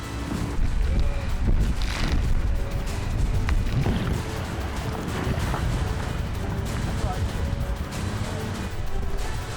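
A marine assault boat speeds through rough waves toward the shore, its engine roaring steadily with heavy water rush, wind buffeting and spray slapping the hull throughout, loud and close without letup.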